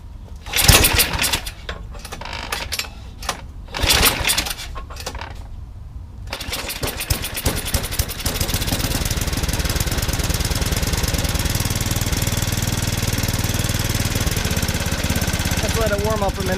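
Yard Machines snowblower engine, choked, sputters and catches in several uneven bursts, then settles into a steady, loud running drone that holds to the end.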